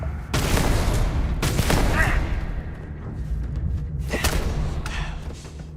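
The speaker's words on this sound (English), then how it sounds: "This is a pretty cool maroon laser gun." A maroon laser gun fires in the space game Starfield: a few sharp, heavy blasts spaced a second or more apart, each trailing into a rumbling decay, with muffled game ambience filling the gaps.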